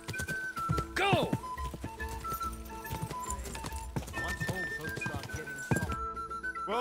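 Horses walk in the medieval role-playing game Kingdom Come: Deliverance II. Their hooves clop in an irregular rhythm while a horse whinnies, and people talk over game music.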